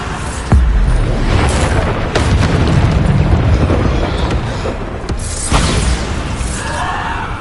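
Repeated booming blasts from the Bombarda spell in a Harry Potter video game, a sharp burst followed by rumbling, crackling debris and another impact later, loud and continuous.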